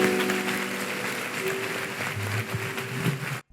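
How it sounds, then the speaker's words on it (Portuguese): A church congregation applauds together in a brief burst of dense clapping that fills the room before cutting off abruptly. "Vamos aplaudir o nosso Deus bem forte."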